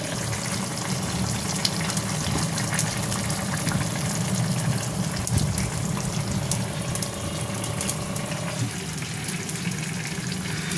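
Water runs continuously from a tap while a kadai used for fish curry is scrubbed, with scattered scraping and clattering over the steady splashing, fairly close.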